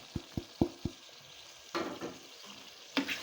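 Mutton liver frying with coriander, tomatoes and onions gives a soft sizzle behind four sharp clinks of a spoon on the pan early on, then bursts of stirring and scraping, moderately close.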